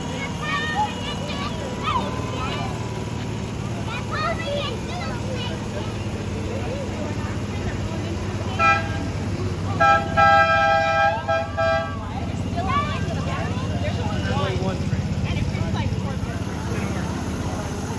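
A miniature GP38-2 diesel locomotive on a live-steam ridable track arrives and sounds its horn, a steady multi-tone blast of about two seconds midway, over constant outdoor crowd chatter and ambient noise.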